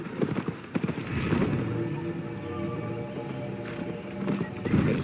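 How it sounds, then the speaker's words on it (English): A white horse in the Albion Online video game trots with steady clip-clopping hooves and a brief whinny, the game's ambient bed running underneath and the hoofbeats growing louder near the end. "Guess I should get on my horse."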